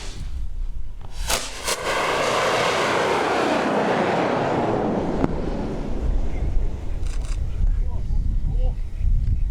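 A reconstructed Joseon singijeon rocket launches at an 80-degree angle with a loud roaring whoosh that swells and then fades as it climbs away, set against gusty wind noise outdoors.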